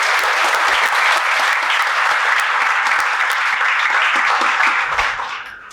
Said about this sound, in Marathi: आपण सगळ्यांनी जोरदार टाळ्या वाजवून त्याचं स्वागत करूया